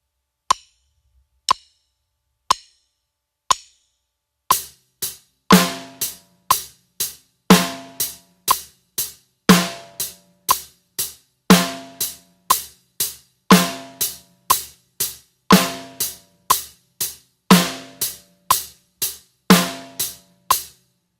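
Drum kit groove with steady hi-hat strokes and the snare drum landing on beats 2 and 4, a few lone hits at first, then a loud, even pattern that repeats through to the end with no talking.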